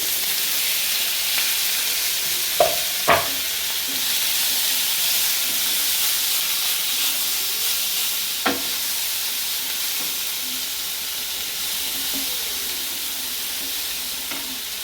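Tomatoes, curry leaves and green chillies sauté in a pan of golden-browned onions, a steady broadband sizzle running throughout with a few sharp scraping clicks of a spoon near the start and middle.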